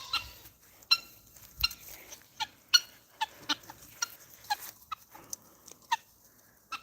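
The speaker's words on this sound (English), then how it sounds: "Look at my chickens." Chickens cluck and squawk in short, scattered calls, some louder and closer, others softer, over a quiet outdoor background.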